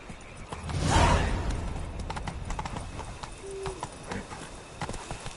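Horse hooves clip-clop steadily on the ground in The Witcher 3, a brief whoosh and a faint whinny near the start, then a continuing trot at moderate loudness with no talking.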